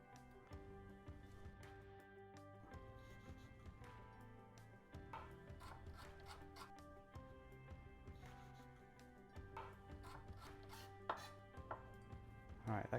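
A knife chops a radish on a cutting board in a home kitchen, a steady run of close, crisp knocks over soft background music.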